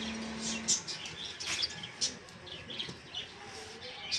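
Small pet birds, including cockatiels, Java sparrows and lovebirds, chirp and tweet busily at a bird seller's, with bright overlapping calls over steady background noise.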